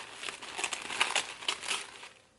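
Black Saint Laurent wrapping paper crinkles and rustles up close as it is pulled open, with continuous crackling throughout and no voices.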